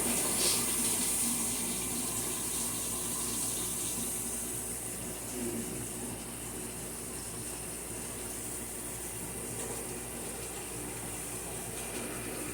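Water runs steadily from a tap with a constant hiss and splash, unchanging throughout with no voices.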